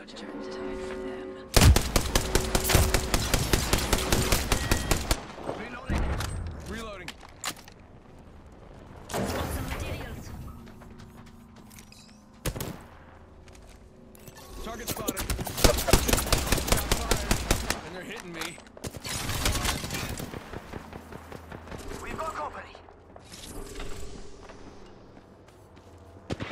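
Gunfire in an Apex Legends Mirage arena match comes in several loud bursts of rapid automatic fire with brief single shots between them, set apart by quieter gaps and game sounds.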